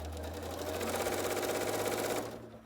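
A sewing machine whirs steadily along a quilt block seam, close and continuous for about two seconds, then winds down to a stop.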